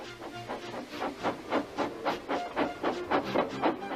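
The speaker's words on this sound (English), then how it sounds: "with much noise and blowing of steam, got ready to back onto the train" Rhythmic chuffing bursts of steam from a locomotive, about a dozen evenly spaced puffs with a hissing wash over a low rumble.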